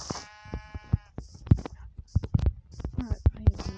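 Blocky sheep in Minecraft bleat several times in short, nasal calls, mixed with game clicks and a voice talking over them.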